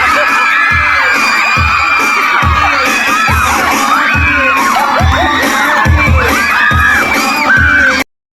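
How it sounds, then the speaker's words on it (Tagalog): A loud crowd at a nighttime pageant cheers and shouts continuously over a steady thumping beat from a sound system. "Hindi na halos marinig ang tunog ng sound system sa lakas ng hiyawan ng mga manunood"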